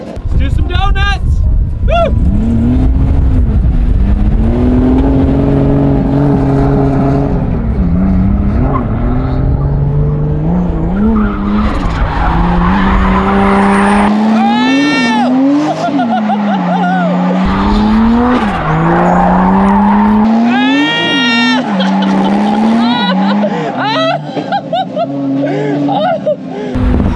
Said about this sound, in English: Let's do some donuts!